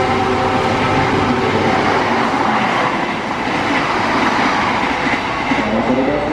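A train runs along track 2 at Bekasi station, a loud continuous rumble with wheel clatter and rail noise filling the whole stretch, close by and steady throughout.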